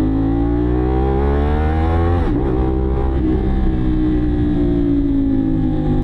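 Royal Enfield 650 motorcycle engine heard while riding on a mountain highway, a loud, steady, close-up drone with rich low harmonics that rise and fall slightly as the throttle shifts, then settles into a constant cruise.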